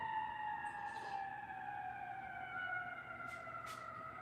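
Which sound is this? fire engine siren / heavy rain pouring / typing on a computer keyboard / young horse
fire engine siren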